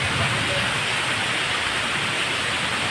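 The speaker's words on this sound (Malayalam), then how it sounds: "വിചാരിച്ചത്ര ശക്തിയില്ല മഴയ്ക്ക്." Rain falls as a steady, even hiss with no distinct drops or pauses. It sounds moderate rather than heavy.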